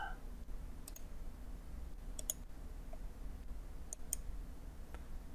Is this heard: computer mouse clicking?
yes